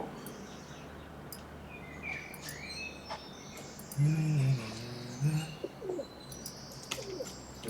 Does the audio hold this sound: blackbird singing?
yes